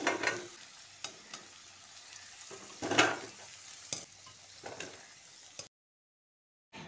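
Fried gathi kochu taro pieces are lifted from sizzling oil, a soft crackling hiss with a few sharp scrapes and clinks of the utensil, fairly quiet and close, ending in abrupt silence.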